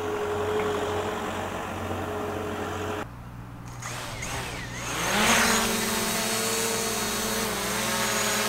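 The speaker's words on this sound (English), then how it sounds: "Chris is flying the drone" A camera drone's high, steady whine runs throughout, with a strong low motor hum and buzzing rotors. The tone dips briefly midway, then swells louder as the drone passes close.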